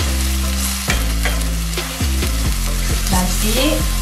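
Undang sauce stirred in a frying pan after adding ground spice, salt and pepper, with loud close scraping strokes of a utensil against the pan over a bubbling sizzle, repeated in a quick uneven rhythm.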